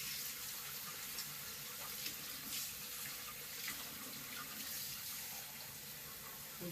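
Tap water runs steadily into a kitchen sink while chicken pot pie is being made, a continuous broadband splash with no talking over it.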